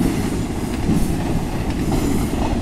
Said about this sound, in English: watch the trains go by